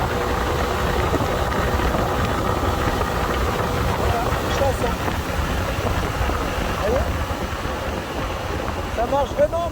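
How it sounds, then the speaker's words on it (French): Engine of a bus converted into a camper van revving up through the rev range under acceleration, a steady loud drone rising in pitch, with people talking over it throughout. "je vais accélérer et avant il y avait un trou à 7000 tours, ça redescendait, maintenant il n'y aura plus de trou"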